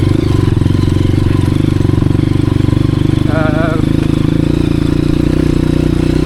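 A Honda CRF 230F dirt bike engine runs steadily throughout, a loud, close, continuous mid-pitched drone with a brief higher whine partway through, while a person talks over it on a mountain trail ride.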